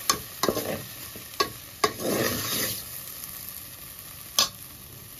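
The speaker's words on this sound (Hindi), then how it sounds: "अच्छे से भून लेना घी में इसको।" Sago roasting in ghee for Navratri sabudana kheer is stirred with a spoon, giving repeated scrapes and clinks against the pan over a continuous close sizzle, with brief swishing sweeps between strokes, no talking.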